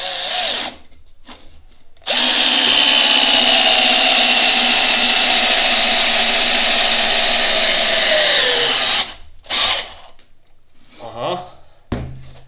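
A Parkside PABS 20-Li D4 cordless drill drives a giant 20 cm screw into wood. A loud, close motor whine holds for about seven seconds, dropping slightly in pitch as it strains, with brief bursts before and after and some talk between.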